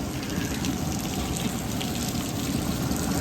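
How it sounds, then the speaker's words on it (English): Steady rain falling outdoors during a Louisiana crawfish boil, a constant soft hiss of drops on surfaces with a low rumbling undertone, no voices. "as you can see, it's still raining"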